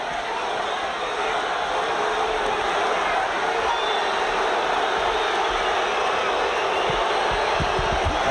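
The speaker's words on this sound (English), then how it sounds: "Part of the crowd beginning to boo as it appears De La Hoya is coasting and sitting on his lead" An arena crowd at the Oscar De La Hoya versus Miguel Angel Gonzalez boxing match, a sustained broad roar with some booing spread across the space, a commentator talking over it.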